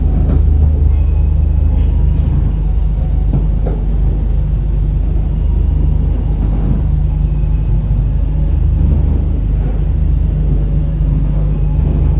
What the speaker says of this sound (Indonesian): kereta api Taksaka tambahan diberangkatkan kembali dari stasiun Purwokerto